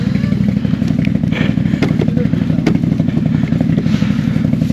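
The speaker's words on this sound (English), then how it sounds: "Rock the bike back and forth a bit," An idling motorcycle being rocked back and forth by a group on a rough trail near Dawson Brook Falls, Martock, its steady engine rumble joined by clattering, scraping and thumping from the bike.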